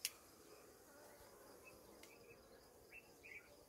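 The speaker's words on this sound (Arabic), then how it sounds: "ما شاء الله تبارك الله النحل بدأ في السروح" Honeybees humming softly around a hive as they begin leaving for the day's foraging, a faint steady drone with a few brief buzzes of individual bees passing close near the end.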